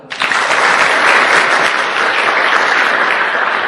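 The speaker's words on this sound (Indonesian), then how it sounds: "Aplaus buat Anda lah." An audience at an Indonesian networking seminar for Tiens breaks into applause, the clapping starting abruptly and staying dense, loud and even for several seconds.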